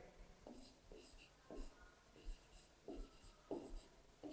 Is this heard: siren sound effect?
no